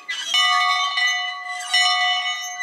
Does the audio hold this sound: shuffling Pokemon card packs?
no